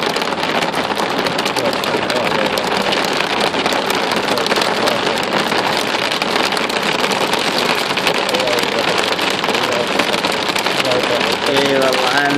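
Rain pours steadily on a car during a storm with flash flooding, a dense continuous patter drumming across the roof and windows, with a voice talking faintly inside the vehicle near the end.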